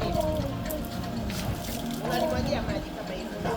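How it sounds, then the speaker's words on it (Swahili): Water poured over a car during washing, a continuous splashing and trickling wash of liquid heard beneath a man's speech throughout. "Unalimwagia maji gari lako"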